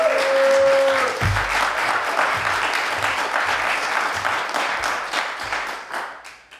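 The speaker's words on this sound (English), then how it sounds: "please give him a warm round of applause" An audience applauds a speaker being introduced at an event, a steady round of clapping that carries on and fades out toward the end.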